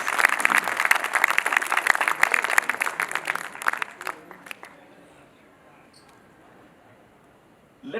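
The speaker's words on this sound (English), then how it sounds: "may I request a round of applause for all these wonderful" Dense clapping from a crowd, loud and sustained, then thinning out and fading into quiet near the end.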